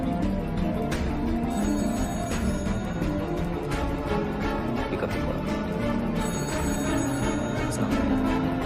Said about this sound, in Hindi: फोन लगातार बज रहा है